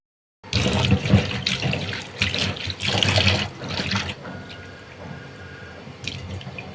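Water pours and splashes steadily into a pan of tomato paste for a few seconds, then thins to a quieter trickle with occasional drips.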